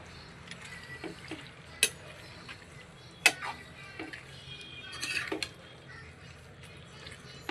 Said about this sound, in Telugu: మంచిగా చికెన్ వేసుకొని కలుపుకొని కొంచెం సాల్ట్ వేసుకోండి